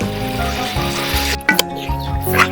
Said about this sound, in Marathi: आपण जो बासमती तांदूळ जो धुवून घेतलेला होता तो याच्यात टाकून घेऊया